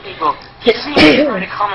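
A single sharp sneeze bursts out in the middle of continuous talk, loud and close. Speech runs before and after it.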